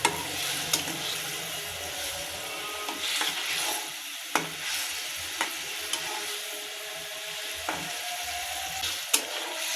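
Eggs for egg bhuna frying and being stirred in a pan, with a steady soft sizzle throughout and occasional sharp clicks of a spatula against the pan, close and moderately loud with no talking.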